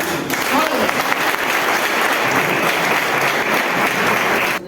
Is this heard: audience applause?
yes